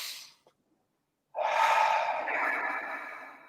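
A single deep, close breath taken during a breathing meditation, a long airy inhale lasting about two seconds after a short pause and a faint earlier breath.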